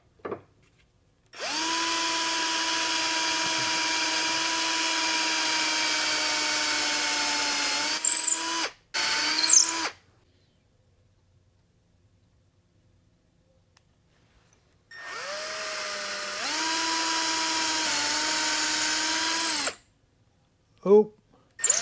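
A power drill bores into wood during a console table build, with two separate bursts of a steady, close, loud whirring whine, each several seconds long. Quiet gaps and a few short clicks and handling noises come between them.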